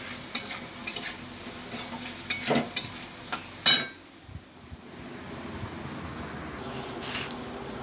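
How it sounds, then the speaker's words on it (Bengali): Potatoes fry in a home kitchen pan with a low steady sizzle, broken by a run of sharp stirring scrapes and clinks in the first few seconds before the frying settles into a quieter hiss. "দেখো আলু ভাজছি"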